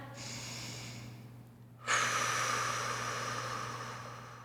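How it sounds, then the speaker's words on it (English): One long, deep breath drawn close to the microphone, a soft inhale followed by a louder, airy exhale that fades slowly over a steady low hum. "maybe you take a deep breath"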